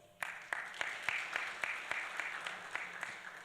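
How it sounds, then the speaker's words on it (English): A small audience at a policy forum on unconstitutional changes of government claps sparsely, with distinct individual hand claps spaced across a few seconds at a modest, somewhat distant level. "A round of applause, please."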